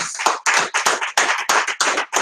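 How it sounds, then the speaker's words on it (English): A church congregation claps hands in praise, loud, close bursts of many hands in a quick, roughly rhythmic run with brief gaps between volleys. "Let's give him a hand clap of praise"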